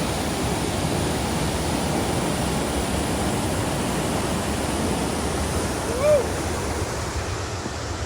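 A white waterfall rushes in a steady, even roar that fills the whole stretch, with no pauses. A brief high chirp rises faintly above it near the end.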